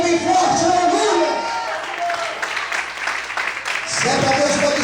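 Applause in a church during worship, a sustained wash of many clapping hands mixed with crowd voices and a low musical tone underneath, loud and continuous throughout.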